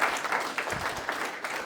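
An audience at a youth AI hackathon applauds volunteers: fairly faint, dense clapping from a crowd at a moderate distance, steady for the whole short stretch.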